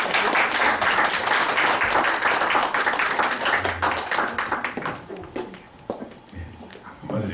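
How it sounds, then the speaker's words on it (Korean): Applause from a seated audience greeting Chairman Kim Chan-ho at a lifelong-education lecture, a dense, loud wash of clapping that thins and fades toward the end. "박수로 환영하겠습니다"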